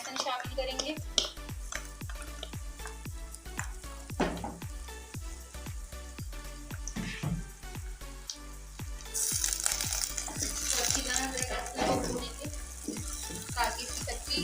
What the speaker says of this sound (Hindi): प्याज हल्की सी फ्राई हो गई है, लाइट ब्राउन हो चुकी है